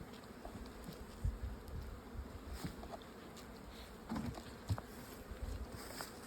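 Honey bees buzz steadily around summer split beehives set on one side of a yard, a continuous soft insect drone with a few closer passes flaring briefly louder.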